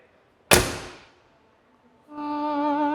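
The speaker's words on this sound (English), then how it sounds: "the G-Class was always famous for opening the door and the sound of closing and" A Mercedes-Benz G-Class door shuts with one solid, heavy thunk that rings out and fades, and after a short pause a steady humming tone follows.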